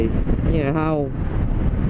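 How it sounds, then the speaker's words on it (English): Heavy wind buffeting the microphone outdoors, a constant low roar under a brief stretch of someone talking. "oh my god, it's so windy."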